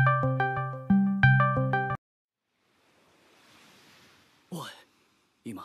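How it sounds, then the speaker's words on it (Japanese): A telephone rings in short bursts of clear electronic tones, then falls quiet under a soft hiss before a couple of brief spoken sounds. "おい、今電話鳴らなかったか。"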